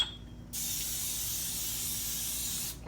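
Cooking oil sprayed from a can to grease ramekins for a lemon souffle, one steady close hiss lasting a couple of seconds and cutting off cleanly.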